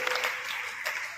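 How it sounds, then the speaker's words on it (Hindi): Brief burst of audience applause for a young girl at a motivational speech event, a dense steady patter of clapping hands filling the room. "जोरदार तालियां इस बच्ची के लिए"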